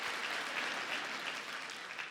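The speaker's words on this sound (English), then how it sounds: "They're clapping here." A church congregation applauds, sustained even clapping from many hands, fairly distant and steady for a couple of seconds.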